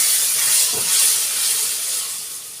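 A loud, steady hiss of sizzling fills the clip as a little water is added to frying spices for chicken kosha in a hot pan, slowly fading toward the end.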